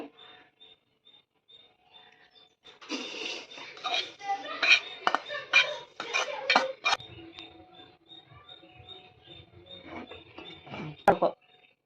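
A spoon scrapes and clinks against a metal pan, scraping roasted semolina into a bowl in a quick burst of rasping strokes, with quieter taps before and after.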